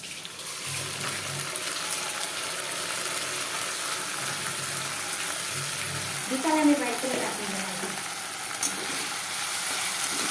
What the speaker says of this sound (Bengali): পেঁয়াজটা মোটামুটি ভাজা হয়ে গেছে। এখন আমি মশলাটা দিয়ে দিব।